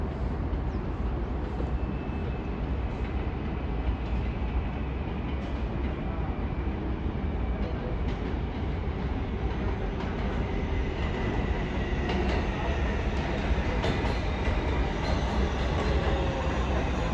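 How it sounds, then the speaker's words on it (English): R188 local 7 subway train approaching 33rd Street station on an elevated New York line, a continuous rumbling roar of wheels on rails with faint squeals, steady and fairly loud throughout. "There is a local 7 train to Metz Willets Point. Approaching the station, please stand away from the platform edge."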